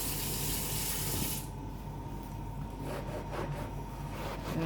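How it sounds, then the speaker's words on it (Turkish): Tap water runs steadily into a sink as a sponge is wetted for hand-washing cord and jute rope placemats and baskets, first a strong gushing stream, then a softer flow with splashes and squeezing sounds. "Şimdi biraz daha deterjan alıp biraz daha süngerimi ıslatacağım."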